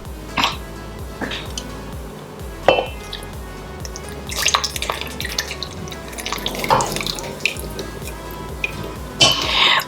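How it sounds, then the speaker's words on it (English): Wet pancake batter ingredients, including yoghurt, poured into a bowl of dry ingredients, giving a run of irregular wet drips and splashes with a few louder plops, close and alone without talk. "I'm just going to be pouring in this wet ingredients into the dry ingredients"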